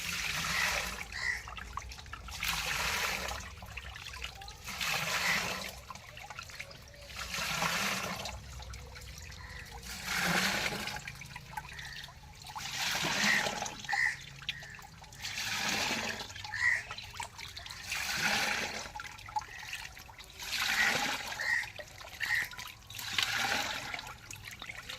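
Water drained from a fish tank holding young stinging catfish, a continuous rushing, trickling flow that swells and eases rhythmically, fairly close and steady with no talk.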